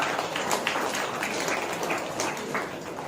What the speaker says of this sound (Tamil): கைதட்டுங்களை ஜோரா